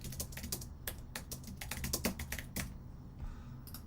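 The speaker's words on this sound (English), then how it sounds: "That is some heavy-handed typing right there." Heavy, forceful typing on a computer keyboard, a dense run of loud, close clacking keystrokes at an irregular fast rhythm, with no talking.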